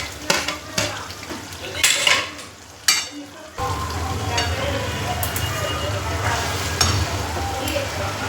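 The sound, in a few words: peas and cauliflower added and stirred in a frying pan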